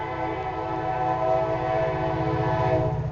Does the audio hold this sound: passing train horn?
yes